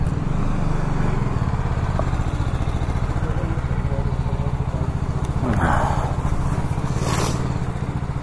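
A BMW G310RR motorcycle idles close by with a steady, loud engine thrum throughout, with a couple of brief clatters and scrapes near the end and no clear speech.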